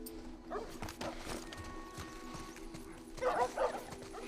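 Dogs barking in The Last of Us Part 1, several sharp yelps and barks scattered through a game soundscape, growing louder and denser toward the end over a steady low hum.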